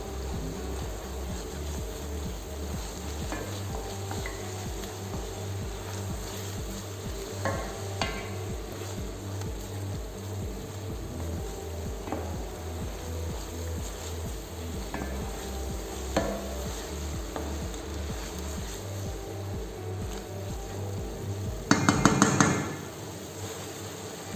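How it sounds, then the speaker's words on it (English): Tomato puree and harissa paste sauté in a pan for a Moroccan harira soup, a low continuous sizzle with rhythmic stirring scrapes and occasional light taps, ending in a brief louder clatter. "add 1 teaspoon of harissa paste to the mixture and saute it very well"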